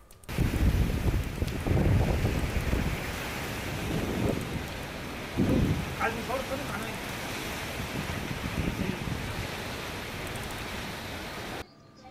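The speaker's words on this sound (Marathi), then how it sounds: "वादळी वाऱ्यासह मुसळधार पावसाने हजेरी लावली।" Heavy rain during a thunderstorm with strong wind in Parola, Jalgaon: loud gusts buffet the microphone over a continuous roar of rain, with deep surging rumbles swelling and fading.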